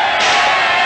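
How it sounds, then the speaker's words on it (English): A cartoon crowd at a game cheers wildly, a loud dense roar of whooping voices that swells in and fills the whole short burst. "And the crowd loses its mind."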